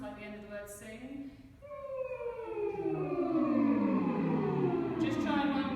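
A voice hums a humming nasal tone that glides upward and then sweeps down like a siren, sustained and fairly loud, a vocal imitation of a siren.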